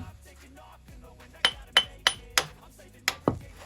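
Six sharp metallic hammer strikes ring out close by in an irregular rhythm during car suspension repair, with quiet clinks and background shuffling between them.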